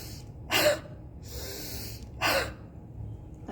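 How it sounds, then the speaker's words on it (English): Two deep, forceful inhalations of a lung-clearing breathing exercise, each a loud rushing breath lasting about a quarter second, separated by quieter airy breathing, close to the listener. "Take deep inspiration,"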